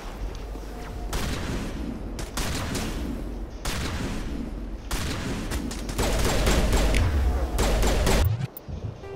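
Turret crossfire in the video game Mass Effect Legendary Edition on Virmire: sustained volleys of rapid gunfire in repeated bursts, fairly loud with heavy low thumps building toward the end, and faint voices beneath.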